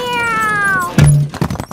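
A cartoon cat in a Peppa Pig episode gives a single loud, drawn-out meow that falls in pitch. A short thud and a few clatters follow right after it.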